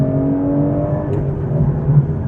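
An Aston Martin V12 Vantage S engine hums steadily on a wet B-road, a smooth sustained drone with a slight swell toward the end.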